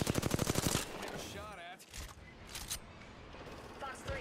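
Rapid video game gunfire cracks out in a quick burst of evenly spaced shots at the start, then gives way to quieter game effects and voices talking underneath.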